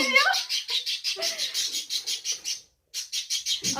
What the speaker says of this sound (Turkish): Kuşlar kavga